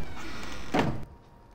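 Doors of a TARDIS replica police box swing shut, a single brief thunk that cuts off a steady electronic console hum, leaving near silence afterward.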